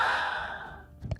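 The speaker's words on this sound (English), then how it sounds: "So I did breathing." An AI-generated breathing effect made in Filmora: one long, soft breath that fades out, then a short, sharp intake near the end, close and alone with no talk.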